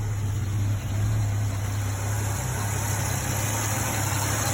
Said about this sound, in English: Engine kicking.